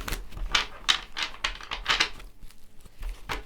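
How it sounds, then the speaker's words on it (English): A tarot deck is shuffled by hand in quick ripples of papery card slaps and riffles, close and crisp, with short pauses between bursts. "One more shuffle with that Ace of Cups at the bottom."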